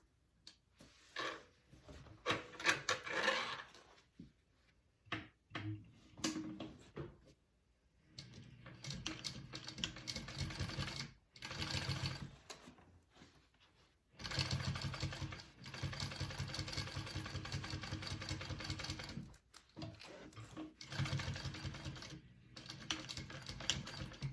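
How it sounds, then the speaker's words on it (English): A sewing machine stitches fabric for a divider bag, running in bursts of fast, steady mechanical chatter, separated by short pauses as it stops and starts, close and clear. "I'm going to go ahead and sew that on"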